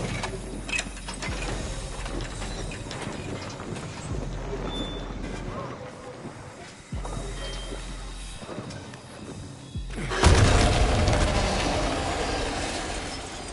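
Heavy mechanical clanking and ratcheting of pistons working overhead in the Toluca Prison area of Silent Hill 2, a steady grinding industrial rhythm that swells louder near the end, with a voice speaking over it.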